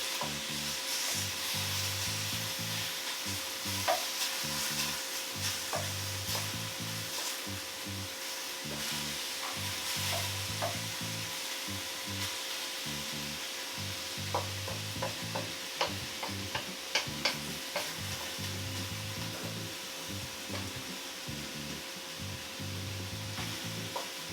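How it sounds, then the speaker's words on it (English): Spicy pork pieces sizzle loudly in a wok as they are turned and pushed around, with a steady fry hiss and repeated scraping strokes of the utensil in a regular rhythm. "if you see pieces that aren't yet cooked, go ahead and turn them over and push them to the bottom of the pan"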